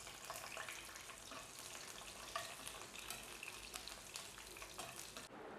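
Dried red chilies, about ten to twelve of them, fry in coconut oil for a traditional Kerala coconut chutney, giving a steady soft sizzle with faint crackles and the occasional stir, close by and alone.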